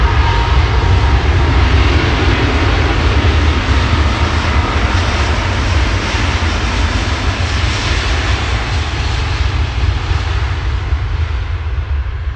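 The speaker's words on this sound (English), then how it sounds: "Plane is going to be Virgin Atlantic to New York's JFK Airport" A Virgin Atlantic airliner at Manchester Airport roars steadily with loud, continuous jet engine noise close by and no speech over it.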